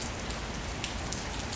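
Close, soft rainfall makes a constant patter on a surface, with a few slightly sharper drops standing out against the steady wash.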